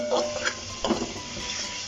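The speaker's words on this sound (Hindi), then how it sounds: "हल्का सा फ्राई करना है।" Chicken Manchurian frying lightly in a pan with vinegar and soy sauce, a soft steady sizzle with faint stirring clinks, close and alone.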